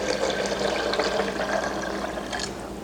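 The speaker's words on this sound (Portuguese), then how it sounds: "Coloca no liquidificador e as suas 900 ml de água." Water poured into a blender holding almonds, 900 ml in all, runs as a steady splashing, gurgling stream that carries on close and clear throughout.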